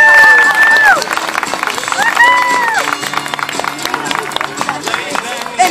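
A crowd at a marine park show claps and cheers to welcome Scooter, a 200-pound harbor seal, with steady mixed applause, brief whistle-like tones near the start, and a voice talking over it.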